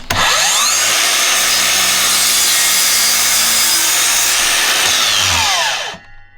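Makita XSL06 cordless miter saw cutting through wood, a loud continuous whining saw tone that spins up, holds steady for about five seconds, then winds down and stops, with no talk.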